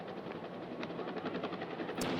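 A helicopter in Richard Donner's film Superman gives off a steady roar with faint rhythmic rotor pulses throughout, fairly constant in level.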